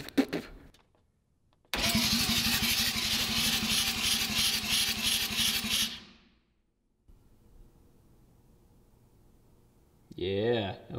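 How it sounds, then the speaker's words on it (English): A rebuilt four-rotor rotary engine roars loudly for about four seconds with a dense, rapid pulsing note, then cuts out abruptly. A faint low rumble and a brief higher whine follow. "this engine's so loud"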